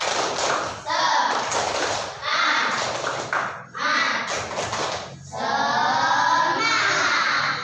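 Indonesian classroom children chanting and clapping 'tepuk semangat' in loud, close bursts, with rhythmic claps and shouted voices in several quick phrases separated by short pauses.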